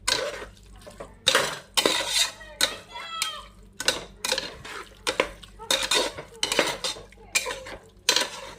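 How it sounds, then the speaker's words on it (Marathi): Yogurt stirred with a metal spoon into chicken biryani masala in a cooking pot, with repeated close, loud clinks and scrapes against the pot in an irregular rhythm and no talking. "आता हे दही मी एकजीव करून घेते व्यवस्थित"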